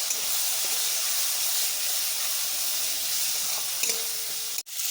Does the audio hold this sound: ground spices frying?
yes